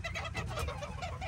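Old English and Azteca chickens cluck softly in a quick, continuous run, fairly faint and close, no talking over it.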